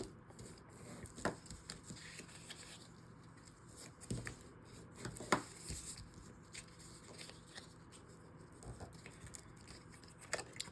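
Paper being folded and burnished for a craft pocket on a one-sheet ephemera project, giving faint scattered rustles, creases and light rubbing strokes at close range, with no voices.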